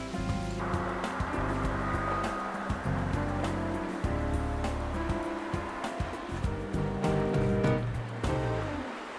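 Wind and waves while sailing a boat, with a steady rushing wash of water against the hull and irregular slaps and thumps throughout, fairly close and continuous.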